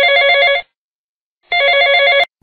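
A telephone rings on a radio phone-in show as a caller dials in, two loud bursts of electronic trilling separated by a second of silence, with no voices.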